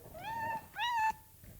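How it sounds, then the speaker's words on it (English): One of two little black kittens meows twice in quick succession, close and soft, each cry a short rising-falling tone with clear harmonics, in a quiet room with no talking. "Two little black cats are keeping me company this morning."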